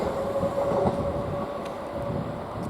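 A train passes through Didcot Parkway station on the Great Western Main Line, giving a steady, loud rumble with a faint sustained squeal, near and continuous throughout.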